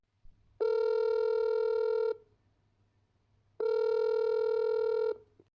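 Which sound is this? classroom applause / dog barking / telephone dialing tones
telephone dialing tones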